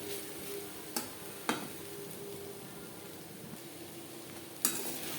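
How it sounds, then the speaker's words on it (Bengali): Teasel gourd and grated coconut are stirred in a kadai over medium heat, with a low steady sizzle and a few sharp scrapes and knocks of the spatula against the pan, no talking. "নারকেলের সাথে কাঁকরোল আরও 3-4 মিনিট নাড়াচাড়া করে নেব"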